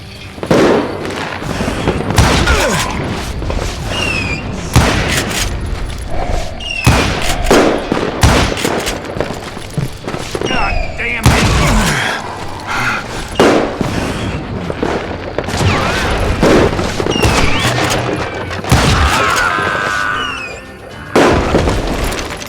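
Loud, repeated gunshots and booming blasts from a saloon shootout in the video game Call of Juarez: Gunslinger, sharp close reports in irregular bursts with echoing impacts throughout.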